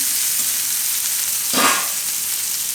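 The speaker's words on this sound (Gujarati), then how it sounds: "થોડીક વાર પકાવી લેવું કેપ્સિકમ સોફ્ટ થઈ જાય એવા એમ તો વચ્ચે વચ્ચે હલાવતા" Capsicum cooking in a pan for besan capsicum shaak gives a steady soft sizzle, with one brief louder scrape of stirring midway and no talk.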